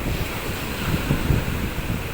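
Wind and surf at a seaside beach, with the speaker standing out in the sea water: steady, rough wind buffeting fills the whole stretch, with low wave wash surging beneath it and no talk.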